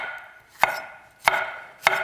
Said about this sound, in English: Sounds good, that chopping board.